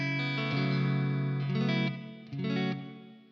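An electric guitar through a Beetronics Fat Bee overdrive pedal plays sustained, distorted chords drenched in reverb, ringing out loud and alone, then dropping briefly before a final strummed chord.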